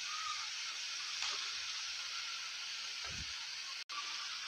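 Gram flour coated fish fries in a pan of oil, a steady close sizzling hiss that holds evenly throughout, with a brief soft knock near the end.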